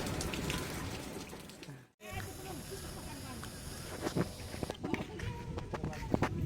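Rain falls steadily in a flood-hit area, pattering on surfaces with gusting wind, a continuous wash of drops and brief pauses while people talk over it.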